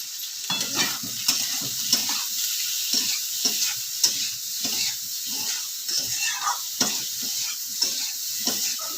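Eggplant and fenugreek leaves fry in hot oil, a steady close sizzle broken by repeated scraping stirs of a utensil in the pan, with no talking.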